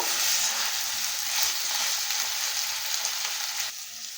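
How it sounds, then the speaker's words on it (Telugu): Eggplant pieces sizzle steadily as they are stirred through hot tempering in a pan, a continuous close hiss of frying with faint stirring. "ఒకసారి ఈవెన్గా కలుపుకోవాలండి, ముక్కలని పోపుకు పట్టేటట్టు"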